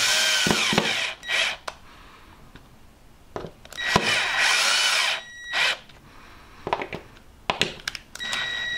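A power drill drives small screws into a plasterboard fixing in a garage, with several short whirring bursts of varying length separated by pauses and light clicks and knocks.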